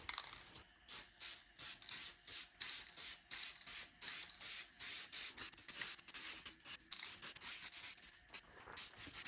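Rust-Oleum hammered gray paint is sprayed from a can onto the evaporator of a vintage Vendo 56 Coca-Cola machine, heard as a rapid series of short hissing bursts with brief gaps between them, close and fairly soft.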